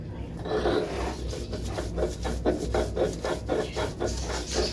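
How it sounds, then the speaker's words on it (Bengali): Green chillies with a splash of water ground on a stone slab (pata) for pickle, a close, continuous rhythmic rasping and rubbing with regular strokes throughout. "এটা তো অল্প পরিমাণ, এই জন্য আর কি পাটায় পিষতেছি"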